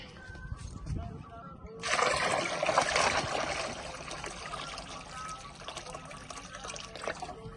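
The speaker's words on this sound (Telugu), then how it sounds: "ఇది కొంచెం నీళ్ళు పోస్తాం." Water is poured into a homemade liquid fertilizer mix meant for rose plants, a steady splashing, trickling pour that starts suddenly and continues close and moderately loud before tapering off.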